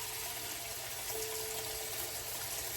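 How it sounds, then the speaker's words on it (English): Hot tap water runs steadily into a stock pot in a kitchen, a constant soft gushing and splashing hiss, fairly faint and unbroken, with no voices. "I'm just filling my stock pot with hot water."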